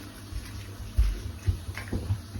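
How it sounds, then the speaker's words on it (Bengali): Water pours into a cooking pot for boiling pumpkin greens, a close, gurgling splash with a few louder surges lasting a couple of seconds and no talk. "তারপর পানি দিয়ে দিচ্ছি"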